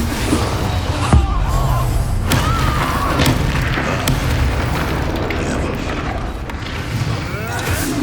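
Bombarda spell blasts in Hogwarts Legacy land as dull booms and thuds amid busy combat effects, with a voice talking over the action.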